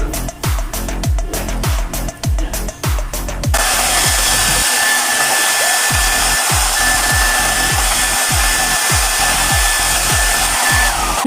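Gaabor hair dryer on high speed cool air roars steadily and loudly up close for about eleven seconds, with rhythmic brushing or rubbing strokes through the hair over the airflow, and no talking.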